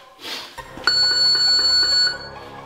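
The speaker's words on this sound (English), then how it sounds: "On the bell." A workout timer bell gives a loud, bright ring close by, with a sharp strike followed by a sustained metallic tone that rings for about a second before cutting off, with no talking.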